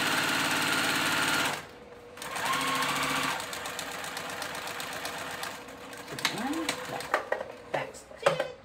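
A sewing machine stitches ribbon onto a cow print tulle tutu in two close, loud, whirring runs, then stops; handling noises and a speaking voice follow.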